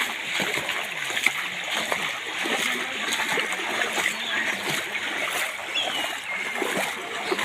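Floodwater after rain stands waist-deep on a city street and splashes continuously, a steady rushing, churning wash of water close by, with no clear talking.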